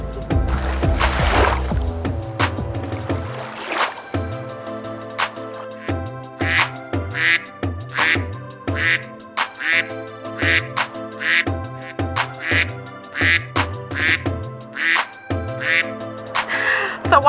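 Ducks and geese calling outdoors near water, a stream of honks and quacks in uneven bursts, fairly close, with faint water sloshing underneath.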